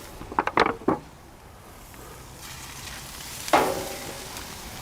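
Meat hitting a hot Monument Mesa 400 stainless four-burner gas grill on high, with a few sharp clanks and a sizzle flare at the start and another burst near the end over a low, steady hiss.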